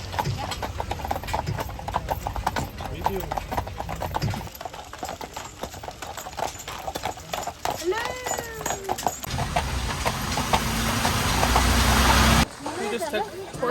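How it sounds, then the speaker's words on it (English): Horse hooves clip-clop in a steady, close rhythm during a horse ride up to Neuschwanstein Castle in Germany, carrying through most of the clip alongside road and carriage noise, with voices talking at moments. "We just took a horse ride up to Neuschwanstein Castle."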